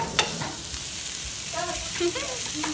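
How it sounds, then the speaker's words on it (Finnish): Onions frying in a pan during a home cooking challenge, a sizzling, crackling hiss with a brief scrape of stirring, and a voice talking faintly over it. "Paistakaa sipuleita ja hetki pannulla."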